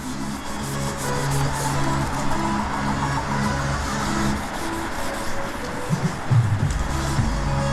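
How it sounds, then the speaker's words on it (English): Edges of a VW Golf panel are sanded by hand in a garage, a steady close rubbing rasp running continuously with a few louder knocks near the end. "Get these edges sanded down."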